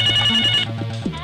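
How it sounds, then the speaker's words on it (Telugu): A telephone ringing nearby with a short bright electronic ringtone burst, followed by a quieter tail of lower tones. "ఫోన్ నీకే."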